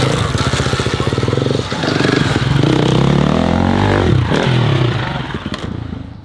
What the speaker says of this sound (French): je vais aller essayer la moto électrique la plus puissante du monde. Regarde, elle arrive.